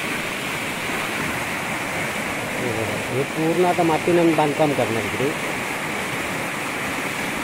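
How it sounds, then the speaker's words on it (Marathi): Water rushes strongly along a village channel beside paddy fields near Rajapur, giving a steady broad hiss throughout while someone talks over it. "पाणी बघा किती जोरात वाहतं आता."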